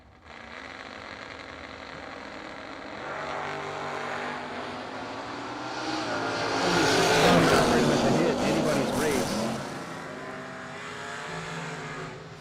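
Drag race run between a Mustang and a Chevy II, with engines building to a loud roaring peak mid-run before easing, set under a track announcer's continuous commentary.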